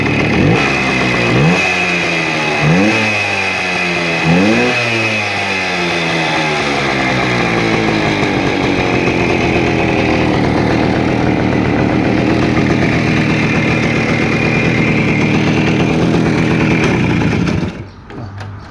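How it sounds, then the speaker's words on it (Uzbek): A Voskhod motorcycle engine is revved with the throttle up close, rising and falling in several repeated surges before holding a steady high roar, then cutting off abruptly at the end. "Hozir gaz berib ko'raman aka"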